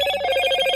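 A Motorola smartphone ringtone plays, a short, bright electronic chime of sustained tones, loud and close, alone without talk.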